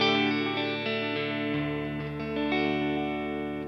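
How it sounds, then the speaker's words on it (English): Clean electric guitar through a Fender Deluxe Reverb amp with the drive pedal switched off, sustained chords ringing out steadily and close, with a light shimmer of effects and no voices. "this is what the guitar sounds like without the drive."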